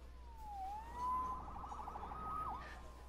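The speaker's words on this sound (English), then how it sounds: "Saved by the siren." A siren from the Spider-Man PS4 video game wails with rising and falling tones, then a rapid warbling yelp, sounding somewhat distant and thin over a low steady hum.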